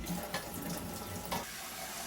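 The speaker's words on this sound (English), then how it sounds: "over to the sink again. And we're going to remeasure our 6 cups of water." Water running from a sink faucet to measure six cups, a steady splashing stream with a short burst of louder gurgling partway through.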